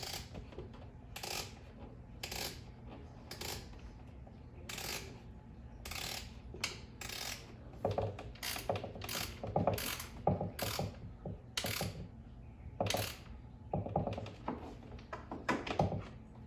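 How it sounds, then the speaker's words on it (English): A ratchet tightens a nut on a wall bracket in a cramped space, giving bursts of quick metallic clicks in short strokes that grow busier and louder toward the end. "now I gotta tighten down the nut"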